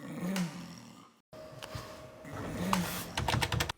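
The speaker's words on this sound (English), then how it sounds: "But it really is, a wolf growling." A layered wolf growl sound effect rumbles low and rough in bursts, cut by a brief silence midway, with sharper crackling rustles toward the end.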